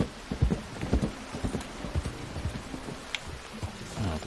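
Horse hooves clip-clop in a steady rhythm while riding along a trail in Red Dead Redemption 2 on Mount Shann, with rain pattering and no talking.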